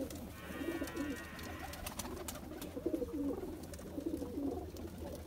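A Teddy cross pigeon from the border region coos softly in repeated low, rolling phrases, close by, with faint background hiss and a brief high rattle early on.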